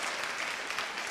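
An indoor audience at a jazz poetry concert claps steadily, a dense wash of hand claps at moderate volume with faint cheering mixed in.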